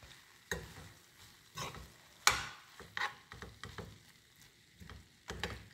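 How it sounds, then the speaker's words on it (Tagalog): Ampalaya (bitter melon) and egg frying in a pan and stirred, close-up: a soft sizzle beneath repeated scraping strokes and knocks of the spatula against the pan, roughly one every second, with one sharper clatter. "Halo-haloin natin ulit"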